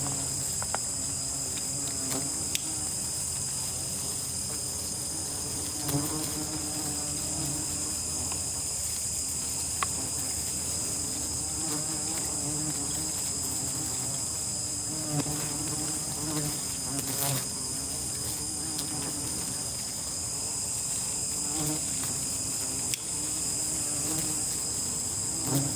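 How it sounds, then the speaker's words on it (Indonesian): A dense swarm of wasps buzzing steadily at a graveyard along a path, a continuous close insect drone with layered whines and faint rustles running throughout, no speech. "Banyak penyengat aja pak."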